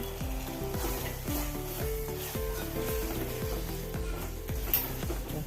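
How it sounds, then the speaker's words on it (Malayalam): Mango ginger pickle being stirred with salt in a pan, a steady hiss of frying running throughout with soft regular scrapes, set against a low pitched musical background. "ഉപ്പും നല്ലപോലെ ഒന്ന് മിക്സ് ചെയ്യുക"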